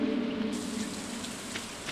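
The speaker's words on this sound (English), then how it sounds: "Alright, it's raining." Steady rain patters as a soft, even hiss across a Stardew Valley farm day, with a low game music tone underneath.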